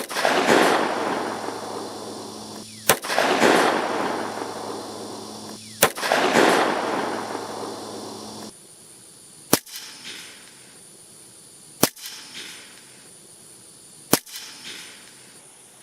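Five sharp, loud 9mm pistol shots are spaced a few seconds apart, first three with long echoing tails and then two quicker, drier reports, fired through a Griffin Armament Optimus suppressor outdoors.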